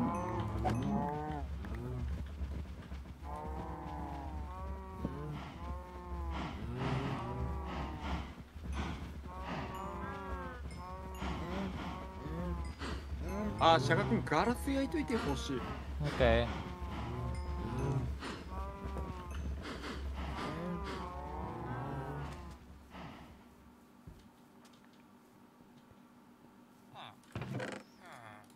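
Cows moo repeatedly in Minecraft, several overlapping low calls in a crowded pen, while people chat over them for most of the stretch.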